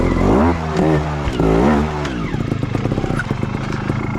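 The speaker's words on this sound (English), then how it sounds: "I'm out riding trials in my woods today" Trials motorcycle ridden through technical sections in woodland, engine revving and blipping loudly up close, with throttle bursts early on settling into a steady chugging idle.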